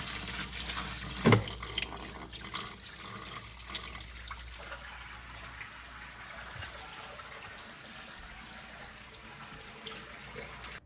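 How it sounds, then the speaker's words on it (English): A bucket of water poured into a predatory fish tank, aimed at a plate: a loud splashing gush at the start easing into a steady running, trickling flow that fades over about ten seconds, with no talk. "But let's get to putting water in."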